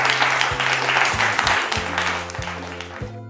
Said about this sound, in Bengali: হাততালি হয়ে যাক for Team D